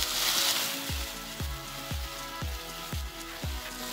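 Chopped tomatoes go into onions already frying in a pan for an arbi masala dish, producing a continuous sizzle with soft, regular knocks about twice a second.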